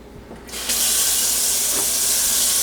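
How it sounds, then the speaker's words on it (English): Water runs from a tap into a cup for a coffee machine, starting with a quiet rustle and then a loud steady hiss of flow that continues without letup. "fill your cup up with water"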